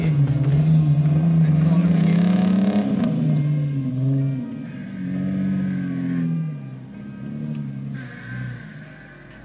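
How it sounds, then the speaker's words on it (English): A Jeep Wrangler TJ with a straight-six engine laboring through sand on a 4x4 club challenge course, its engine note rising and falling as it revs, close and fairly loud, tapering off toward the end. "The Jeep, with that straight-six engine, singing a beautiful tune"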